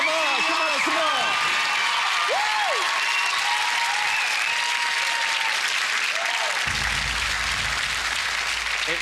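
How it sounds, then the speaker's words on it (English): A game show studio audience gives a contestant a big round of applause as he heads down to the hole, loud, dense clapping and cheering with whoops and whistles throughout, and a low rumbling tone entering near the end. "Let's give him a big round of applause as he makes his way down to the hole"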